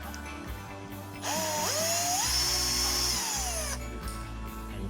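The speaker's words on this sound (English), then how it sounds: "it is still secured with these two screws at the back, which we are going to open up now" A power screwdriver backs out screws on the cover of a Whirlpool electric cooker hood, a single close, steady whir lasting a few seconds with a rising then falling pitch, no talking.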